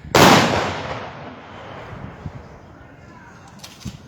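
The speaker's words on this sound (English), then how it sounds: "They're firing their shots." A gun salute volley at a Remembrance Day ceremony in Oshawa, Ontario opens with one loud outdoor blast that echoes away into a quiet crowd, with faint scattered sounds after.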